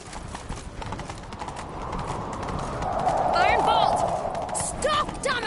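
Rhythmic hoofbeats of a galloping horse drum steadily beneath background voices and game noise, growing a bit louder toward the end, in the video game The Witcher 3.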